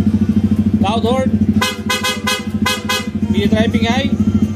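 Loud PIAA horn on a Yamaha XSR 155 motorcycle sounds in a rapid series of short toots, about six close blasts, between brief talk at the start and end over a steady low engine hum.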